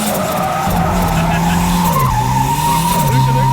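A Toyota MR2 drifts through loops with loud, sustained tire squeal over a droning engine whose pitch wavers and dips, heard close and continuous throughout.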